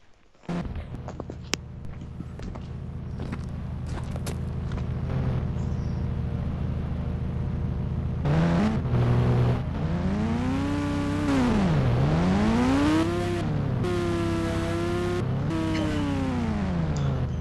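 A dirt bike engine in the Indian Bikes Driving 3D video game hums steadily, then revs up and down in rising and falling sweeps near the end.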